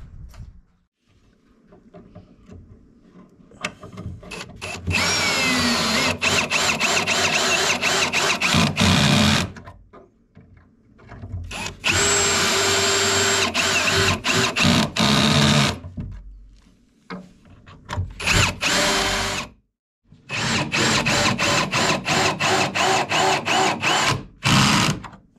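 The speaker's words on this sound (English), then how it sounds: "now it's just a matter of drilling it into the side" Power drill driving screws through pocket holes into wood while joining parts of a bench built from a repurposed piano, heard as several long, loud whirring bursts separated by short pauses, with no talk.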